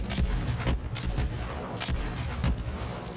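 Explosions and gunfire from the video game Borderlands 3, a dense barrage of booms and sharp blasts repeating every half second or so, loud and continuous across the whole stretch with no talk over it.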